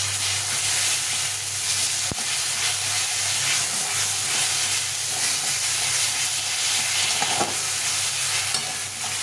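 A pan of masala being sautéed after finely ground spices go in, cooked down until the liquid dries off, gives a steady close hiss of frying with stirring scrapes and one sharp clack partway through.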